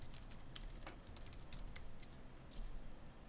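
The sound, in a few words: typing on computer keyboard writing blog post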